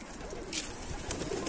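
A pigeon coos softly and close by, in a short low call heard alone against quiet outdoor background noise.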